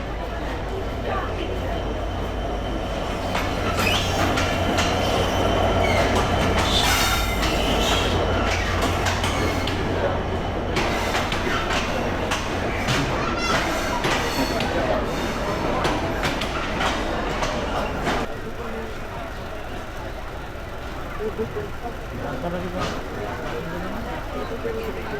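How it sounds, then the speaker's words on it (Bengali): The Dhumketu Express, bound from Dhaka to Rajshahi, pulls out of Airport railway station: a loud, steady rumble of rolling coaches with rhythmic clacking wheels that eases off toward the end, with voices in the background. "ছেড়ে দিল এই বিমানবন্দর রেলওয়ে স্টেশন থেকে, অর্থাৎ ঢাকা থেকে রাজশাহীর উদ্দেশ্যে আমাদের এই ধূমকেতু এক্সপ্রেস।"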